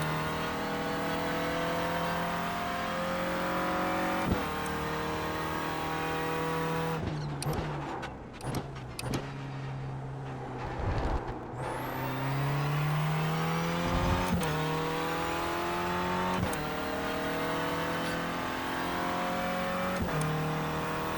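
A Renault Clio Cup race car in iRacing holds full throttle, its engine droning loud and steady with gear-shift dips and rising revs, close and continuous without talk.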